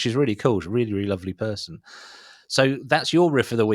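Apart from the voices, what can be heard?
No everyday noises stand out.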